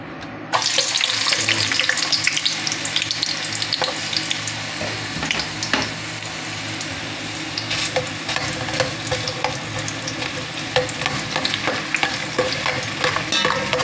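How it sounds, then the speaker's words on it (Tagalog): Oil heated in a casserole pot crackles and hisses as sautéing begins for fried-fish tinola, with a dense, close sizzle throughout, scattered pops and occasional stirring scrapes, no talking. "sisimulan na po natin ang paggigisa. Meron na po akong kasirolang na pinainit na may mantika."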